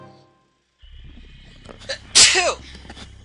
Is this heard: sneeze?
yes